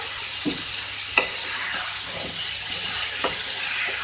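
Tomatoes being stirred into aloo baingan (potato and eggplant with cumin) in a pan, with a steady frying sizzle underneath and several soft scraping strokes of the spoon at irregular intervals, close and moderately loud.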